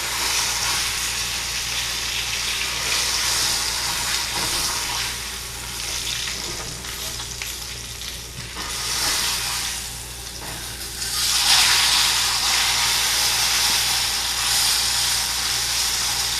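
A steak fries in butter in a pan, a steady loud hiss and sizzle that holds throughout, swelling brighter for a few seconds near the end, with no voices.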